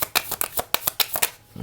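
Lord Ganesha oracle cards are shuffled and split into three piles, giving a run of crisp, close riffling and slapping bursts at a quick, uneven rhythm, with no talking.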